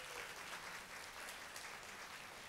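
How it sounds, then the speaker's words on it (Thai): A church congregation claps together in a steady wash of applause, fairly faint and even, with no voices. "เราปรบมือให้ครูป้อมร่วมกันดีไหมคะ"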